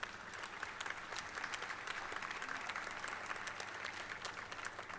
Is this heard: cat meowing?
no